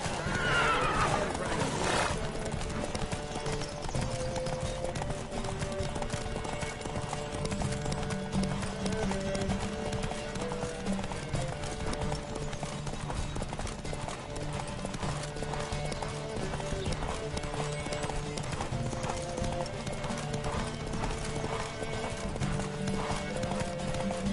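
In The Witcher 3: Wild Hunt, steady, rapid clip-clop of horse hooves galloping throughout a race, with occasional whinnies, against a dense, continuous music-like background.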